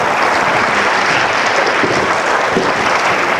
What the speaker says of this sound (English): A round of applause for these great subjects.